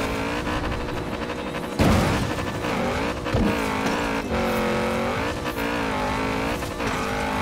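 A Lamborghini Urus engine in the video game Forza Horizon 4, its revs rising and falling as it drives, with a heavy thump partway through and brief tire noise.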